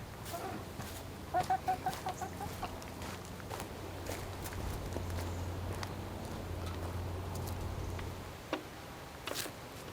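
Black hens cluck in short rhythmic bursts close by, followed by a low drawn-out murmur and a few scattered clucks and scratches.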